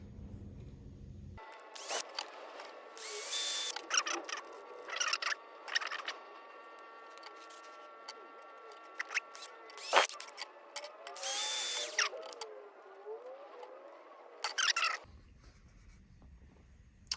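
A power drill whirs in several short, loud bursts with pauses between, plus scraping and rattling of material up close, drilling to install headlight guards on a 1:18 scale diecast model car.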